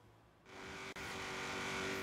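A Nissan Silvia S13 in Forza Horizon 3 starts up about halfway through, then holds a loud, steady engine drone as it drives, with one brief dropout. No voices are heard.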